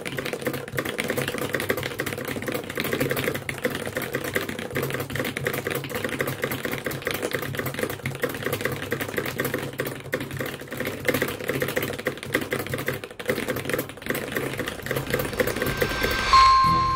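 Very fast typing on a computer keyboard, about 250 words per minute, a dense unbroken clatter of keystrokes running steadily throughout, fairly loud and close with no talking.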